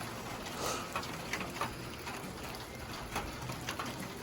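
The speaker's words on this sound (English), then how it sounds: "I always enjoy the rain." Rain patters on a small backyard shed used as cover for a pork-shoulder smoker, a steady soft hiss with scattered louder drops.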